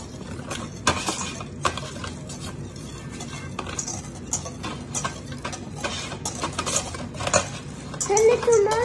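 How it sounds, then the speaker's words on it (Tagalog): Chocolate cake batter being mixed in a bowl, with repeated utensil clinks and scrapes against the bowl at an uneven rhythm, close by, under occasional speech. "Yalla, keep on mixing."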